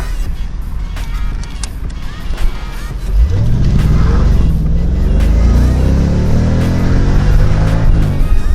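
A Mercedes-Benz SL55 AMG engine starts up and revs, then pulls away, the exhaust note climbing steadily as it accelerates; close and loud, with no talking.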